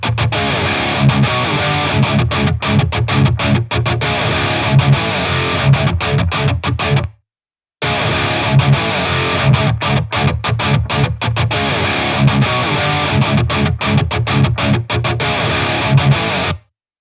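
Heavily distorted metal rhythm guitar through a Line 6 Helix amp model, loud, dense palm-muted chugging riff in two takes split by a brief silence, no talking.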